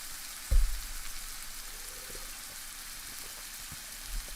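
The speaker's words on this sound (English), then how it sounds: "add in a few of those greens of the spring onions and make sure that those sizzle up nicely in the egg." Spring onion greens sizzle with egg in a hot pan, a faint steady crackling hiss after a soft thump as they go in.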